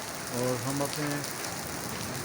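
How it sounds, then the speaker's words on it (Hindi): Heavy rain falls steadily in Islamabad at dusk, a constant close hiss of drops striking surfaces, with someone briefly speaking over it near the start. "अब अचानक मगरिब के वक्त बादल आ गए और बारिश शुरू हो गई है।"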